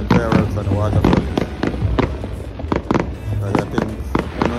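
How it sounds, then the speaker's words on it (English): Sharp bursts of fireworks over a waterfront in Jamaica pop repeatedly at irregular intervals, moderately distant, while people talk over a busy background. "they have been fireworks on the waterfront"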